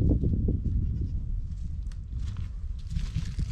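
Young goats bleat in high, wavering cries over a busy background of rustling and shuffling hooves, close by.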